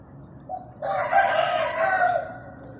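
A hybrid fighting rooster, a trained bird, crows once loudly and up close, a short note followed by a long drawn-out crow with no talking.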